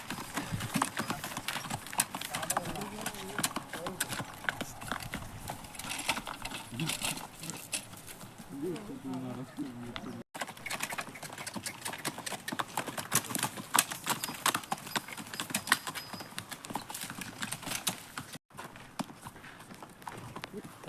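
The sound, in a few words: horses' hooves clip-clopping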